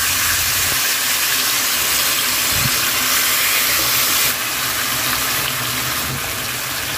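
Chicken pieces fry in hot mustard oil in a wok, a loud, steady broadband sizzle that holds evenly for several seconds and drops a little near the end, with no voices.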